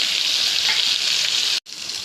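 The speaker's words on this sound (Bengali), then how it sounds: "চিংড়িটা ভাজা ভাজা হয়ে এসছে" Shrimp fry in a pan with chopped onion, diced potato and crushed garlic, giving a steady, close, loud sizzle that breaks off for a moment near the end and then comes back a little quieter.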